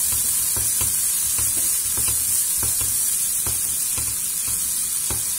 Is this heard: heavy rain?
no